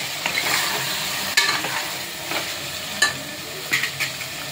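Ingredients for a country chicken curry frying in oil give an even sizzle, punctuated by several sharp spoon clacks and scrapes against the pan while being stirred, with no voices.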